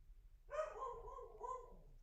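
A single dog barks once, then gives a drawn-out whining yelp, faint and somewhat distant against quiet background.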